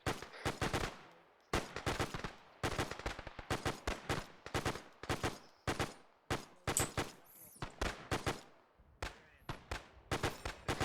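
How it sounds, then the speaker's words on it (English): Rapid bursts of machine gun fire in a World War II combat game set on Guadalcanal, loud and close, arriving in repeated rattling volleys separated by short gaps. "Focus the machine gun fire on that."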